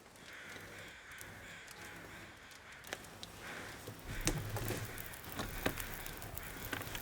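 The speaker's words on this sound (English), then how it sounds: "Man, would you listen to those crows?" Crows cawing in the snowy wilderness of The Long Dark video game, a ragged chorus of repeated harsh calls growing louder and denser toward the end over a steady wind-like background hiss.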